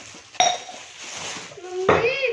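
Newly bought drinking glasses being handled in a home: two distinct clinks of glass ring out, one early and one near the end, while someone talks over them.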